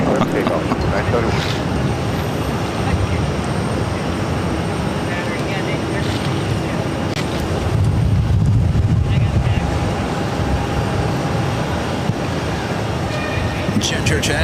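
An airliner takes off from runway 22 right at Boston, a loud, sustained broadband jet roar that swells and shifts over several seconds, with radio chatter and talk on top.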